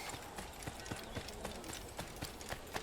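Horse hooves clip-clop in an Assassin's Creed game, a quick, steady run of sharp knocks over a faint background, quiet and without voices.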